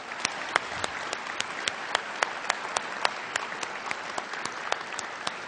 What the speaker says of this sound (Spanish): Yo quiero que les brindemos juntos un gran aplauso.